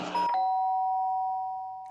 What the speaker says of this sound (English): Sharp sound of the doorbell pierced my sleepy haze and pulled me back into the real world.